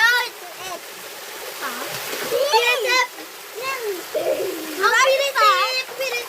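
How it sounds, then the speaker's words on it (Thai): Children splash water in a mountain stream, with bursts of splashing and the steady flow of running water. Excited kids' voices talk and shout over the water throughout. "อย่าสาดน้ำใส่หน้ากันดิน้ำเข้าหู"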